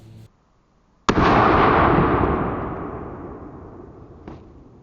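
A single loud, sharp handgun gunshot cracks after a brief quiet, then its echo rolls away and fades slowly over several seconds.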